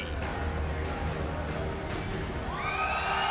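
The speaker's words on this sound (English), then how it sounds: "they did cheer very loud for him" A large crowd at IEM Sao Paulo, a StarCraft 2 esports semifinal, cheers and roars continuously, a dense wash of noise that stays steady throughout, with a rising electronic tone near the end.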